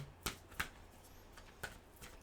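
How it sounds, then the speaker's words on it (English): A deck of playing cards being shuffled by hand, heard as a few short, crisp riffling bursts separated by pauses, close and fairly quiet with no talking. "I am a advocate of shuffling like this"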